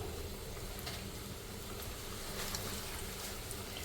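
Chicken pieces for crispy broast chicken frying in oil over low heat in a large pot, a steady, close sizzle with soft crackles throughout and no talk.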